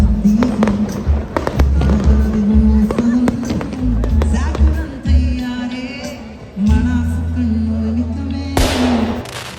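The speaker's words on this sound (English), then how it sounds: "we even attended a music concert with a lot of firecrackers burning across the capital because it was Eid celebrations." Firecrackers bursting across the capital during Eid celebrations at a music concert, a loud crackling barrage of sharp pops over steady low music and crowd noise, with a dense burst near the end.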